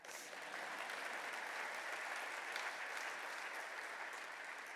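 At an award dinner, a banquet audience breaks into steady, even applause that holds at a distant, moderate level throughout.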